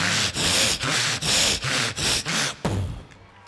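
A mimic voices a saw cutting a large tree, producing seven slow, heavy, breathy rasping strokes in a regular rhythm, loud and close, ending with a sharp crack and fading hiss.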